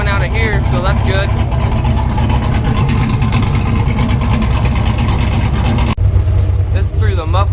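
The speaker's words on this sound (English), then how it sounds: "Through the muffler and then open up the cutout." A 500 HP 6.0 Silverado with the exhaust cutout open drones loud and close through a sustained rev, then drops suddenly near the end, with a voice over parts of it.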